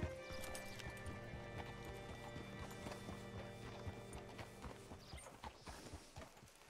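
A horse's hooves clip-clop steadily in Red Dead Redemption 2, a continuous walking rhythm under a layer of game ambience and music, with no talking.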